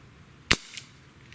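A Webley MKVI 4.5 mm CO2 air pistol fires a single BB: one sharp, loud crack, then a fainter metallic tick a moment later, in a quiet room.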